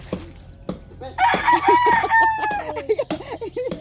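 A rooster crows once nearby, a long drawn-out call, with hens clucking around it and scattered thumps in the background.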